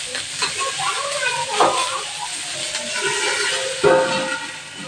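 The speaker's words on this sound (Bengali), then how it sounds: "তো হালকা আছে একটু ভেজে দেবো।" Dheki shak (fiddlehead fern greens) fry lightly in a pan, giving a continuous soft sizzle with occasional stirring scrapes and small bursts, close and moderately loud.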